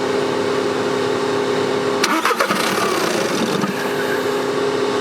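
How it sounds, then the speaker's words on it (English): A Ford Transit T250 van engine with a weak battery cranks briefly, catches with a sputter, and settles into a steady idle, heard close by with no talking. "Go crank up the car."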